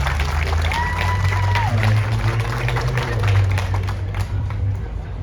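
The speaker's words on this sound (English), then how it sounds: "Give a round of applause for the piper." Outdoor audience at a jubilee picnic in the park claps and cheers for a bagpiper, a steady, fairly loud mix of applause and crowd voices lasting several seconds, with some chatter underneath.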